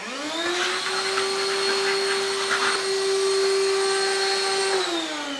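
A vacuum cleaner with its filter missing sucks up drywall dust during a water-damage repair, starting up with a rising whine, holding a loud steady tonal drone up close, then winding down at the end.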